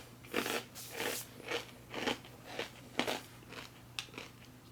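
Crunchy XMRE 3000XT ration snack chewed close up in a steady series of about ten loud, dry crunching bites, with a faint hum underneath.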